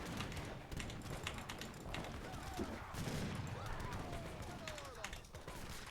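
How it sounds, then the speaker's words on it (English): Cannon and gunfire volleys in an Age of Empires III: Definitive Edition battle, a dense, continuous crackle of shots throughout, with no talking. "So I'm shooting that last fucking leather cannon out there."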